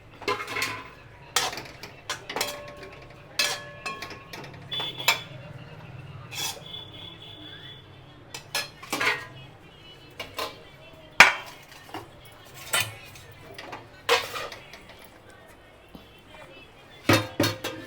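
Metal plates and dishes clinking and clattering while dinner of dal rice and cluster beans is served at home, sharp scattered knocks spaced through the stretch, with someone talking in between.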